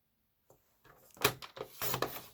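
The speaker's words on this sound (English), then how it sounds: "So I'm going to put that in my paper trimmer." A paper trimmer slices card stock up close: a few soft scrapes and clicks followed by two quick sliding cuts.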